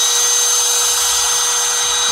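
A power drill bores into very hard metal, a steady, loud high-pitched grinding whine held unbroken for the whole stretch with no talk.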